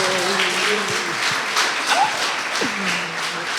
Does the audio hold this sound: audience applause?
yes